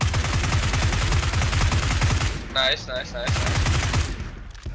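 A UMP submachine gun fires in a video game in rapid, loud bursts of automatic fire, with a brief pause and a metallic reload clatter partway through before firing resumes, and a voice speaks briefly.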